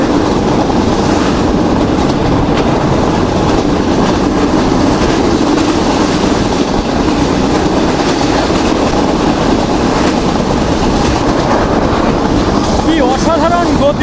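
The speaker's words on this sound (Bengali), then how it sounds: "দুর্দান্ত গতি নিয়ে ছুটে যাচ্ছে আমাদের ডাউন সুন্দরবন এক্সপ্রেস" Down Sundarban Express on the Dhaka to Khulna line running at over 90 speed past flooded monsoon wetlands: a loud, steady rushing roar of wheels and wind, constant and close throughout with no clear breaks.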